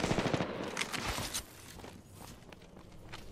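Rapid gunfire in an Apex Legends shootout, loud bursts of shots and running footsteps up front, then fading into softer distant shots and movement.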